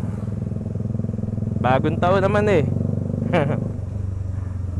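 A motorcycle engine rumbles steadily up close on New Year's night, its loud exhaust throbbing while people talk over it.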